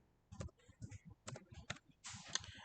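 Computer keyboard during newspaper layout work in InDesign: a handful of soft, close key clicks in short uneven clusters, then a brief hissy burst, quiet overall with no speech.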